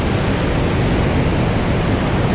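Rhine Falls at Schaffhausen, Switzerland, swollen with summer snowmelt, roars as a dense, steady broadband wash of falling water, loud and unbroken, with no voices.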